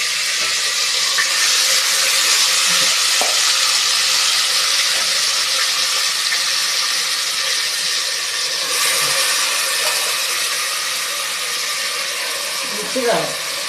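Mutton biryani masala frying and being stirred in hot oil, a broad, steady sizzling hiss with occasional clinks and scrapes of a utensil, close and continuous.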